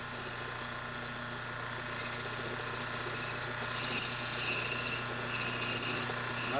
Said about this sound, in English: Not a very big lathe, it's only a 6-inch lathe.